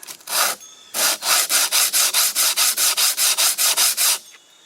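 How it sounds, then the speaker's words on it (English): A semi-metallic brake pad for a Polaris Ranger is rubbed on sandpaper laid over flat plywood, giving a loud, steady run of rasping back-and-forth strokes, about fifteen in quick even rhythm, with no talk. "Take the glaze off, just use sandpaper."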